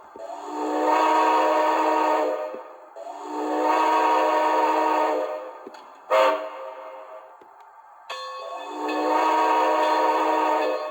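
Crossing whistle sequence from a Bachmann Spectrum HO scale 2-10-2 USRA Light steam locomotive model, Santa Fe 986: two long blasts, a quick short toot, then another long blast, loud and close, no talk.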